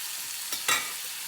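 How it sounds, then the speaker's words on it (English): Meat browning in a pan for an omelette, a steady soft sizzle with a couple of brief scraping stirs near the middle, close and fairly quiet with no talking. "the meat is almost browned on one side"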